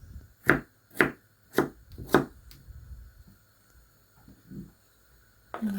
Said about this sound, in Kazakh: Екінші картошканы да дәл сол қалпында кубик тәрізді тураймыз.